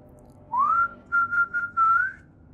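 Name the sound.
whistling, the same whistle used to call a dog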